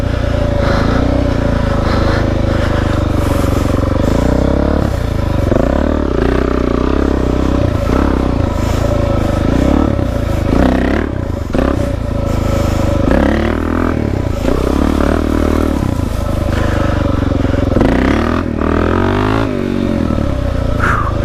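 Suzuki DRZ dirt bike on a trail ride, engine repeatedly revving up and dropping back while doing wheelies, loud and close with wind buffeting and rattling throughout.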